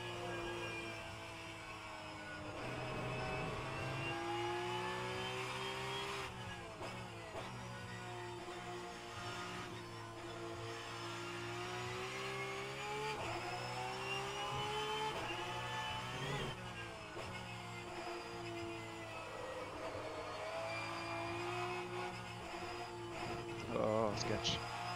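A Porsche Cup race car engine in the rFactor2 racing sim at Hockenheimring GP drones and rises and falls through gear changes, running steadily underneath continuous commentary from a man.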